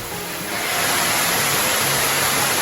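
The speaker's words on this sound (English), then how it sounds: "but this waterfall made it worth it." A waterfall in American Samoa pours steadily, a broad constant rushing roar that swells slightly after the first half second and holds loud and unbroken, with no talk.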